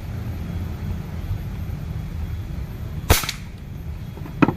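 A single sharp shot from a bullpup air rifle with a magnum magazine and smooth twist barrel, loud and close against steady outdoor noise, followed near the end by a fainter second snap.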